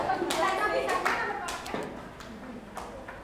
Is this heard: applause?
yes